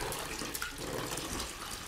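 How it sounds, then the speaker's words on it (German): Hot water pours into a bath in a German western radio drama, a steady close gushing and splashing of a tub filling with no voices over it. "Hier ist heißes Wasser für das zweite Bad."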